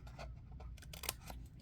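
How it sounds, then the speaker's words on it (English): A few quick, faint scissor snips cut through paper cardstock while crafting a gingerbread man project, soft and close with no talking. "turn your scissors and cut it just like that"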